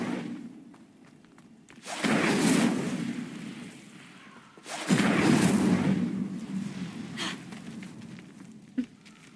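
Incendio fire spell cast twice in the video game Hogwarts Legacy, each a loud whooshing burst of flame that swells and then slowly fades, with no talking.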